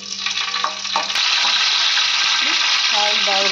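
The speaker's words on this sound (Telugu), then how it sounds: "ఆయిల్ బాగా వీటెక్కి మనం ముందుగా వేసుకున్న కరివేపాకు కూడా బాగా వేసుకోండి" Curry leaves dropped into hot oil for a stuffed brinjal curry burst into a loud, steady sizzle that carries on without a break, with faint clinks from the pan underneath.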